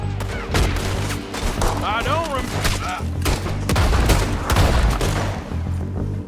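Heavy gunfire in Red Dead Redemption 2, a rapid volley of close, loud shots and booming reports over a few seconds, layered with game sound effects and music.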